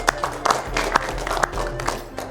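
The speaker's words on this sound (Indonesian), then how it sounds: "Kita tepuk tangan untuk kita semua" Scattered clapping from a small group applauding the top 8 players at a Be a Champion game event, close and uneven, with irregular bursts of claps and some crowd murmur beneath.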